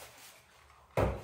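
A bathroom cabinet door is handled during cleaning, giving a single close, sharp knock near the end after a quiet stretch.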